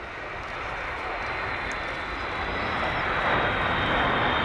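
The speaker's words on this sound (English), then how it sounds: "look at the smoke from those 8 engines on that P-52" B-52 jet bomber with eight engines flying past at the Royal International Air Tattoo, RAF Fairford, a broad steady roar that grows slightly louder toward the end.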